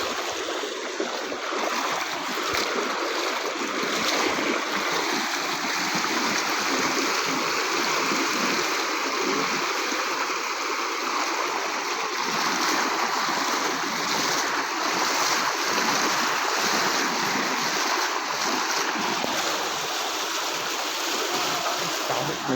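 Strong river current rushes steadily during a low-water crossing, a loud, continuous broadband wash of churning water close by with no pause across the whole stretch.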